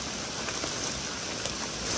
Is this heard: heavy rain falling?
yes